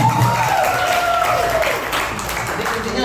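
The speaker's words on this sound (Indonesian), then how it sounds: "Bagaimana tepuk tangannya Ibu Yanti?" An audience gives a short round of clapping for Ibu Yanti as she comes forward at a church gathering, a brief crowd patter with a voice and music tones over it.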